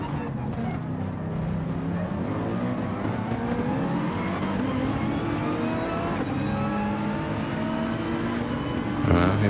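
A Mercedes-AMG race car engine in Gran Turismo 7 at the Red Bull Ring drones steadily at high revs, holding a continuous rising and shifting tone throughout, with a brief louder burst near the end.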